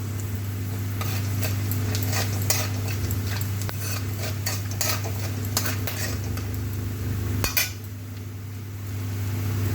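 Whole garam masala and cumin seeds sizzle in a small amount of oil in a pan for a cauliflower coriander curry, a steady close frying hiss with scattered light clinks and stirring scrapes throughout.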